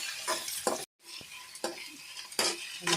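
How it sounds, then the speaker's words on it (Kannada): Onions frying with dried red chillies in a pan for upma, a soft sizzle under repeated stirring strokes and clinks of a spoon against the pan, with one short gap of silence. "ಇದು ಅಷ್ಟೇ ಚೆನ್ನಾಗಿ ಹುರ್ಕೋಬೇಕು ಈರುಳ್ಳಿ."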